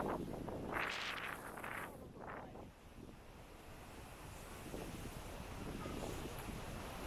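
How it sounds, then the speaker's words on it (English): At night by the sea at Enoshima in Fujisawa, ocean waves wash in under gusty wind buffeting the microphone; a louder surge comes early, then a softer, steady rumble of surf. "You hear the ocean?"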